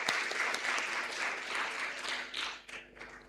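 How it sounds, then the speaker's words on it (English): An audience at a Malaysian Armed Forces international symposium applauds after a Q&A session, a dense, even wash of many hands clapping at moderate distance, fading slightly toward the end. "Please give a round of applause to Dr."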